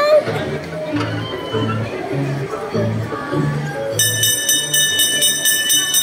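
A ride-on train's bell rings in rapid, repeated bright strikes that begin partway through, over a busy background of people talking and crowd chatter.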